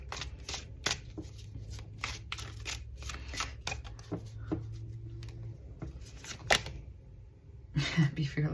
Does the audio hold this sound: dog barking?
no